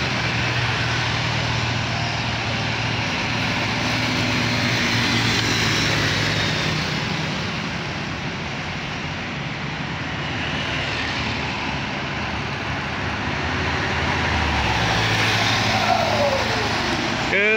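Heavy diesel engines of a loaded truck and buses grinding up the steep winding Panorama Patuk hill road in Gunungkidul, a sustained loud rumbling drone that swells and eases as the vehicles labor past, with someone talking over it.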